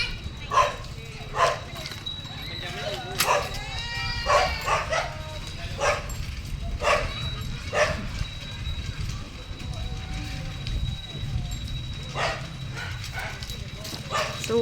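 A dog behind a fence on a village street barks repeatedly in short, sharp bursts spread across the stretch, fairly close, with background noise and a voice at times.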